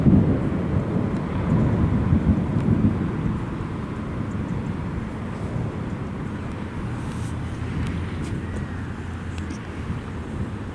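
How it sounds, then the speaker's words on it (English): Thunder rolls through a lightning storm as a deep, broad rumble that is strongest at the start and then fades into a long, low, steady grumble, with no talking. "This is a beautiful storm."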